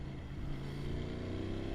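A CF Moto 800 MT motorcycle fitted with an SC Project exhaust rumbles steadily as it rides off, a close, low engine note with no speech.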